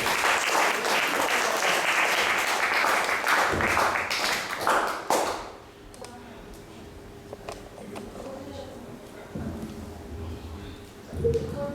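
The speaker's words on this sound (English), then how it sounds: "So let's give a round of applause for Bhakti." A temple gathering breaks into dense applause that holds for about five seconds, then tapers off into quieter room sound with scattered taps and murmuring voices.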